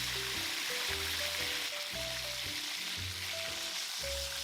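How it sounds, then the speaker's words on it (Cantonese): Taiwanese chicken steak deep-frying in oil over medium heat, a steady close bubbling sizzle with a faint tonal whine in the background, no voices. "繼續用中火炸多2至3分鐘就可以拎起備用㗎啦"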